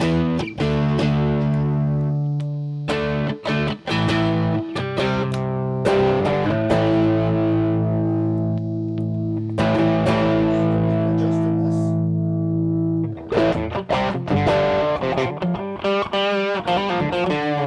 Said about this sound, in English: this is just a jazz chorus sound with a tube screamer in it